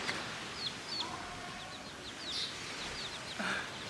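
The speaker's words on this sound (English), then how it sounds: "Look at the chicken. Well, rooster, whatever this is, it's getting kind of close to me." A rooster moving close by outdoors, making soft intermittent clucks and short chirping calls over a steady background hiss of ambient noise.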